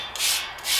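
A metal wire brush scrubs a painted metal cemetery fence to clear old enamel before repainting. Two quick, close, bristly scraping strokes follow one another, loud and alone.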